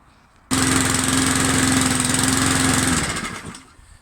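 A rotary push lawn mower engine starts abruptly and runs at a steady, loud drone with a buzzing hum for a few seconds, then winds down and fades out.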